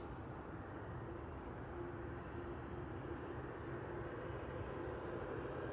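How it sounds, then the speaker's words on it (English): A Eurowings Airbus A320-200 arriving from Dusseldorf at Manchester Airport produces a steady, fairly faint broadband jet roar that holds evenly throughout without voices. "Next to land is Eurowings from Dusseldorf, A320-200 DABHF flight 9344"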